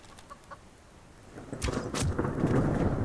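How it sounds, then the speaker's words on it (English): Thunderstorm in the survival game Subsistence, faint rain hiss that builds into a loud rumbling thunder crack, then a sustained roll of thunder over continuing rain. "With the thunder and all? Can you not with the thunder?"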